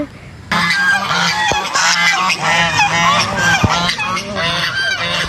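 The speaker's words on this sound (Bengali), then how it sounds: "বোনরা বলছে যে এই হাঁসগুলোকে ওইখানে পাঠিয়ে দিতে" A flock of ducks honks loudly and close, with rapid, overlapping nasal calls repeating throughout with no break.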